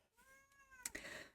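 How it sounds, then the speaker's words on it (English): A pet cat gives a soft, drawn-out meow as it walks into a quiet room, then a short second call; faint and close, with no voices. "My cat's entering the room"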